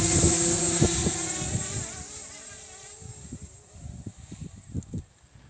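The motors of a homemade quadcopter start up with a loud buzzing whine that rises and then sags, followed by short uneven revving bursts as the throttle is nudged.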